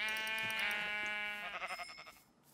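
A Minecraft sheep bleats in a long wavering cry followed by a shorter shaky bleat, fairly close, with no talking.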